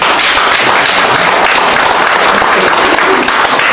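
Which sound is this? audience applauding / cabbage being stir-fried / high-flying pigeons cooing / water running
audience applauding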